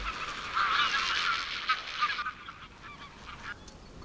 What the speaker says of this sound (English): There are two species of flamingo here, the greater flamingo and the lesser flamingo.